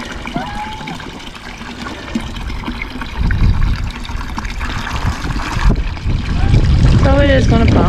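Water gushes from a pump draining a goose pond, a steady churning trickle and splash that grows fuller and louder partway through, with a person talking over it.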